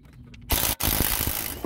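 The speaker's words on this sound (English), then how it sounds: "Okay, I've got all the bolts out of the drive shaft." A ratchet works on the drive shaft bolts of a Jeep JK, giving a loud burst of rapid clicking pawl mechanism noise after a quiet start, with a brief pause before the clatter continues.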